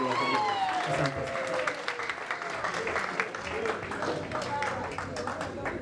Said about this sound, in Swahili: Makofi kwa baba yetu tena jameni.